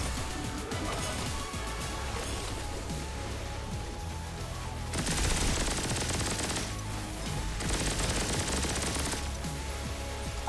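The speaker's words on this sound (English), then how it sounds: "Use the chain gun. Chain gun go burr." Chain gun in the shooter game Turbo Overkill firing in long sustained bursts, a dense continuous rattle that swells louder in two stretches over a steady background of game music and effects.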